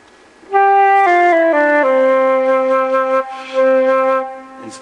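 A flute plays a few slow, descending low notes with a tubby, full and breathy tone, held close to the listener with a brief pause near the end.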